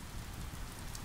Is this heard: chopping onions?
no